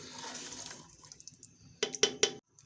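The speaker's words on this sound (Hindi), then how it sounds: "2 गिलास हमने पानी इसमें ऐड कर दिया है। और इसको थोड़ा सा करेंगे मिक्स।" Stirring water into a pot of mutton and peas curry, with a soft liquid swish followed by three sharp clinks of a spoon against the pot, close and alone.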